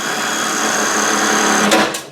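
A power driver whines steadily as a self-drilling tech screw bores into a 1995 Range Rover top dash panel, a continuous close buzzing that ends with a couple of brief clicks.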